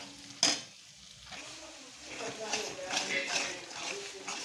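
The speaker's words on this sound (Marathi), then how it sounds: "थोडासा भाजून घेतलेला कांदा, परत आलं, लसूण, खोबरं याची पेस्ट केलेली आहे आणि आता मी परतून घेणार आहे।" A paste of roasted onion, ginger, garlic and coconut sautéed in oil for paneer masala, with a soft sizzle and a sharp clink at the start, then stirring scrapes under a person speaking.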